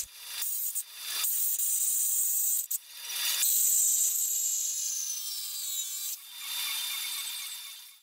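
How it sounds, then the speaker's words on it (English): A power tool trims the steel frame rail ends of a Nissan S14 during a KA24DE turbo intercooler install. Bursts of harsh, high-pitched cutting last a few seconds each and are split by short pauses as the tool spins down. "To get the intercooler as far back as possible, I trimmed back the inside of the frame rail ends for clearance on both sides."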